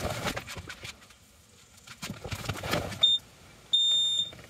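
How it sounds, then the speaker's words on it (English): A PressurePro Pulse FX tire pressure warning beeping through a phone speaker for a truck wheel sensor reading 0 PSI, with two sharp electronic tones, one short and one longer, after a stretch of rustling and handling noise. "It's beeping through the phone speaker"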